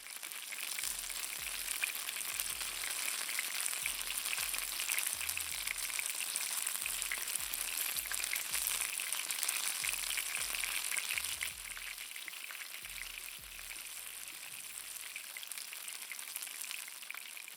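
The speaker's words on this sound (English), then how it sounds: "the sound of, the grilling sound, the fry sound" Steak frying in hot tallow sizzles steadily and loudly up close, a dense crackling hiss with fine spattering pops and faint low knocks throughout, no voices.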